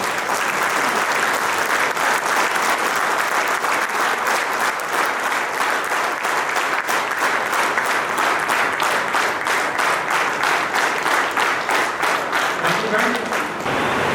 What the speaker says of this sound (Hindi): इन तीनों त्रिशक्तियों का एक जोरदार तालियों के साथ अपनी जगह पर खड़े होकर स्वागत करते हैं